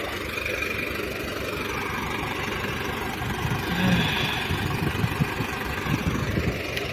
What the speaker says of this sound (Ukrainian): Йомзик працює